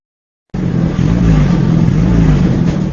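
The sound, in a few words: car engine with leaking, rust-holed exhaust pipe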